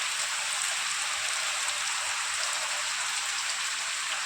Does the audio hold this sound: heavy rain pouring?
yes